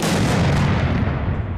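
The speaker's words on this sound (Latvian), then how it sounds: "Zalves tiek izšautas ar salūtu munīciju." Blank-ammunition salute volley fired during a national holiday ceremony in Latvia, a loud, continuous rumbling roar of gunfire that holds steady for the whole short stretch and fades only slightly at the end.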